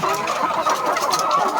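Dekalb White chickens cluck continuously and close by at a farm at feeding time, forming a steady, loud chorus of overlapping calls.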